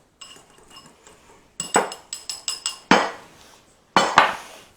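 A utensil scraping and knocking against a bowl while coconut flour, erythritol, salt and baking powder are stirred together, with irregular clinks and taps in bursts, close and fairly loud.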